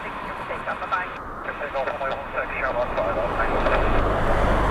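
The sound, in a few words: airplane landing at Dublin Airport runway 16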